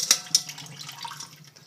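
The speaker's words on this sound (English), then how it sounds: "So first I'm going to drain them." Soaked black beans are drained in a kitchen sink: two quick splashes, then a soft trickle of water with faint drips, quiet and close.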